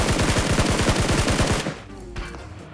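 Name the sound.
gunfire in a PUBG-style video game at Pochinki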